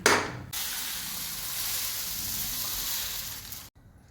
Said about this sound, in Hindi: इसे हमें धीमी आंच पर अच्छी तरह से भून लेना है।